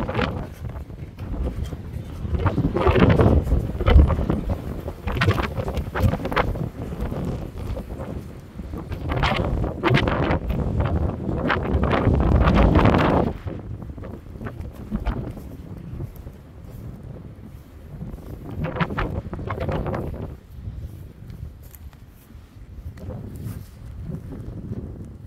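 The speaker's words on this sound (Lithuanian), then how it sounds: "Čia susirinkome į užuovėją nuo vėjo." Strong wind buffets the microphone outdoors in open countryside, roaring in loud gusts with quieter lulls, and faint footsteps can be heard now and then.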